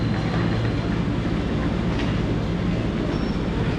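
Passenger train ride in an economy car of KA Sawunggalih, seated near the rear: a steady, dense rumble of wheels and carriage fills the whole stretch with no clear breaks, and no one speaks.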